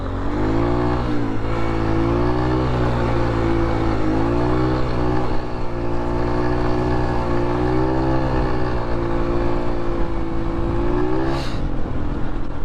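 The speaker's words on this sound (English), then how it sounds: "I feel like my bike's been running pretty weird lately." A motorbike engine drones steadily and close while being ridden through bush, a loud, sustained note with slight rises and dips in pitch, running rough, with no talk over it.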